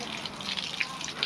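Tap water running and being wasted, a steady continuous gush of water from a faucet, fairly close and moderately loud, with no pauses through the short stretch.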